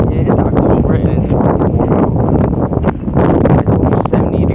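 Strong outdoor wind on a warm October day buffeting the microphone, loud continuous roaring gusts with rustling, and a voice speaking over it.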